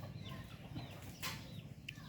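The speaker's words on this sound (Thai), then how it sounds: "ตอนนี้มีแม่ไก่อยู่" Rescued hens with around fifty chicks make soft, faint clucks and small calls against a steady low background hum.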